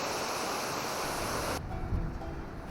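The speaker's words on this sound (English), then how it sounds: "It is incredibly windy, incredibly noisy, and the water's moving really fast." Strong wind and fast-moving river water roar at a deep, noisy weir on the Water of Leith, a loud continuous wash of noise that thins slightly partway through, with no voices.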